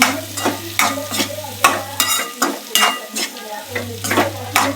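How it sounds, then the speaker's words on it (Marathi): Potatoes being stir-fried with masala in a pan, a spoon scraping and tossing in regular strokes over a steady hum and sizzle, loud and close. "छान सगळा मसाला बटाट्याला लागेल असं परतून घ्यायचं।"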